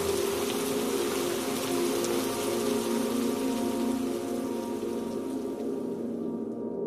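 Steady rain pours down in a cartoon scene, a continuous hiss of drops that fades slightly toward the end, with no talking.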